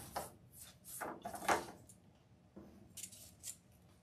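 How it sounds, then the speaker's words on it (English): Scissors cut through ribbon in several short, crisp snips, with a pause and then two or three quieter cuts close by. "I'm gonna cut a piece of this ribbon at 24 inches"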